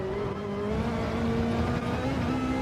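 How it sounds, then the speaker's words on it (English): Ferrari race car at the Red Bull Ring, its engine roaring steadily at high revs with a rising pitch, loud and close as though from on board, with no talk over it. "Let's listen to the roar of that Italian engine in the Ferrari"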